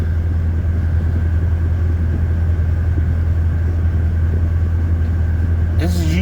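A parked car's engine idles steadily with the air conditioning running, giving a constant low rumble and hum throughout, with a brief higher-pitched shift near the end.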